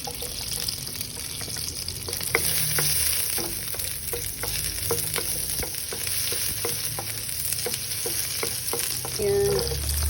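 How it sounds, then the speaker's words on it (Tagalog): Garlic sautéed in butter for a Filipino okra and egg dish sizzles steadily in the pan, with the scrape and tap of stirring through it and no voices. "And then saute the garlic."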